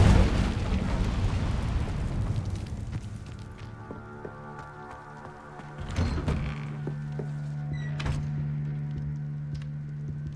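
A fiery spell burst in a Hogwarts video game: a loud whooshing crackle of flames at the start fades into a sustained low hum, followed by sharper magical bursts and chimes.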